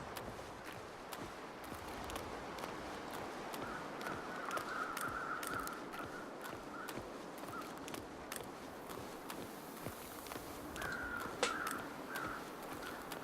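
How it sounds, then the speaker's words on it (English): Crows cawing in the snowy wilderness of the video game The Long Dark, a few harsh calls at middle distance set over a steady bed of wind and ambient noise, with no talking. "Whenever you see the crows, that usually means there's something dead down there."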